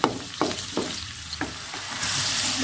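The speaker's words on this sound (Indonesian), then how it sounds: "Oke, ini udah mendidih." Water with galangal boiling hard in a pan at a home stove, bubbling and popping in a steady crackling hiss, with a few louder pops near the start.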